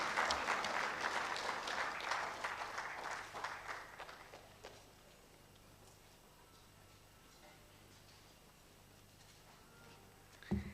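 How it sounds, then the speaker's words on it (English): Applause from an audience at an engineering society memorial lecture. Dense clapping for about four seconds, then it dies away to a quiet room with faint rustles and a low hum. "Can we give her a more befitting round of applause?"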